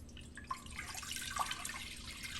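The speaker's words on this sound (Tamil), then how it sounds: "அதுக்கப்புறம் இப்போ நான் இதில் தண்ணி ஆட் பண்ணுறேன்." Water is poured into an oily pot after deep frying, a soft, close trickle and splash that runs quietly and steadily.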